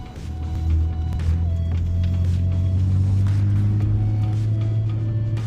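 A lowered 2015 Porsche Macan S cruising a snowy two-lane highway, a steady low engine and road rumble heard from inside the cabin, continuous and fairly loud throughout.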